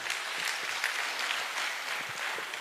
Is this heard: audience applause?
yes